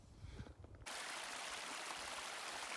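A mountain stream beside a backcountry trail rushes in a steady, close, hissing wash of water that starts abruptly after a brief quieter moment and then continues unbroken.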